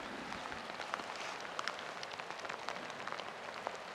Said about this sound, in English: 3:15 on day one, May 2nd, and it's still raining.